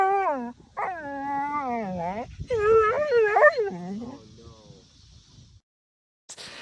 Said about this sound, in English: By vocal dog, I mean this.